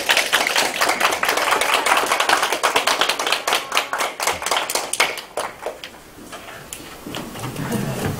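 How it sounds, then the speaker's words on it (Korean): An audience at the close of a lecture on mental health peer support applauds loudly; the clapping thins into sparse separate claps and fades toward the end. "우리 다시 한번 큰 박수 해주시고"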